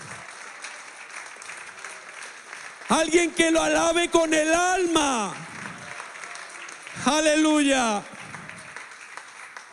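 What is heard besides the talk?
church congregation applause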